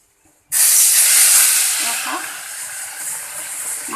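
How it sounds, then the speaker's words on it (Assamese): Pieces of fish coated with salt and turmeric drop into hot oil and burst into a loud, steady sizzle that holds for several seconds, with small crackles and pops. No one speaks. "মাছকেইটা মই এটা এটাকৈ ভাজি ল'ম"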